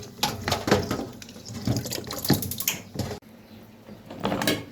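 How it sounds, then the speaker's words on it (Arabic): Water boils in a cooking pot, a continuous close bubbling and churning with irregular surges, briefly dropping off near the end before picking back up. "الميه بتغلي"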